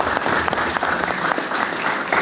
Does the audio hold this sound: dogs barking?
no